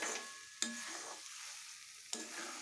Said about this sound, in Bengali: এটাকে মিশিয়ে নেব, পুরোটা ভালো করে নেড়ে নেব